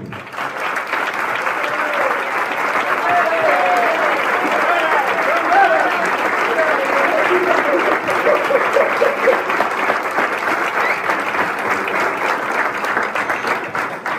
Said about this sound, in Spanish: Un aplauso para María, por favor.